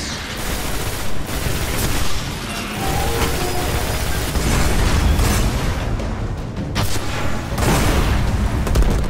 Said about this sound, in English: So that's my rocket launcher.